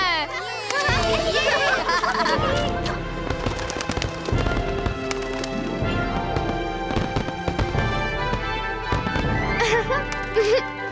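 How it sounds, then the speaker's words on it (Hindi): Diwali firecrackers and fireworks go off in dense, rapid bursts of crackling and popping, loud and continuous, with whistling rockets and people chattering in the background. "पटाखे चलाना पर संभल कर।"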